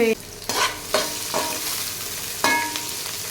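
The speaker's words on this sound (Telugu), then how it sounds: "సో ఇప్పుడు ఉల్లిపాయలు వేస్తున్నాను." Sliced onions frying in hot oil in a pan for chicken fried biryani, a steady close sizzle broken by several sharp scraping stirs of a utensil against the pan.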